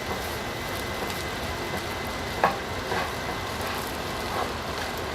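Egg fried rice with oyster sauce sizzles in a pan, a continuous soft crackling hiss at moderate volume with a few faint clicks and no talking.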